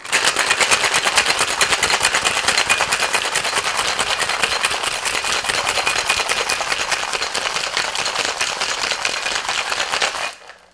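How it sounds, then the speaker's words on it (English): Vigorous shaking of a Magnetic North cocktail with ice in a shaker, a fast steady rattle of ice cubes running loud and unbroken for about ten seconds before stopping abruptly. "And then we just give it a good shake."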